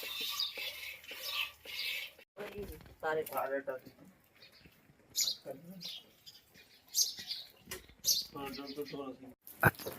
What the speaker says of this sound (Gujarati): જ્યારના અમે મકાન બનાવ્યા છે ત્યારના અહીં ચકલા રહી છે.